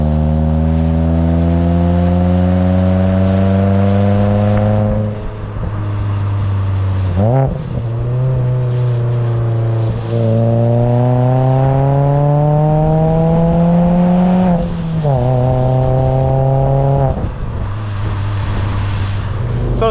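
An Alfa Romeo GTV (916) engine drones steadily with a deep, throaty note from an aftermarket stainless steel exhaust, revving up and dropping back several times as it climbs through the gears.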